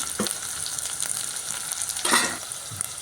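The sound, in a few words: onion, chillies and curry leaves sautéing in oil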